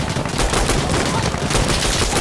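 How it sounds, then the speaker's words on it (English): Dense, loud gunfire in the video game Insurgency: Sandstorm crackles nonstop, with rapid overlapping shots filling the whole moment. "I'm hearing so many fucking gunshots."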